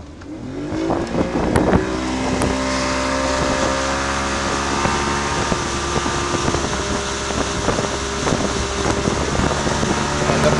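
A Yamaha Pro 50 outboard motor on a boat drones steadily and loudly with a rising whine, wind buffeting the microphone throughout; no voices.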